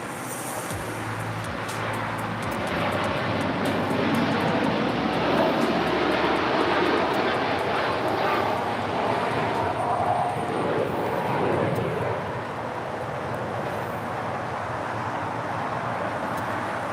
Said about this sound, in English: That was Air Tahiti Neri Flight 8, taking off to Paris on a 787-9 Dreamliner.